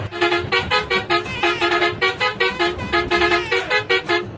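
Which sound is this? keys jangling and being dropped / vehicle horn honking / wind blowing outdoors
vehicle horn honking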